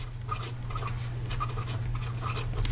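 A Diplomat Excellence fountain pen with a medium nib writes on paper in Royal Blue ink, giving soft close scratchy strokes in short repeated bursts over a steady low hum.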